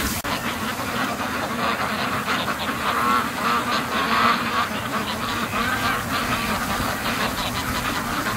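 A flock of free-range ducks on an icy lake keeps up a continuous chorus of overlapping quacks and honking calls, moderately near and steady throughout.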